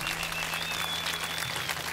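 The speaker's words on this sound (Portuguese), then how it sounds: "Salva de palmas para os meus amigos que eu quero ouvir." Steady applause from a live concert audience in Rio de Janeiro fills the moment, dense and continuous clapping with a faint sustained tone over it.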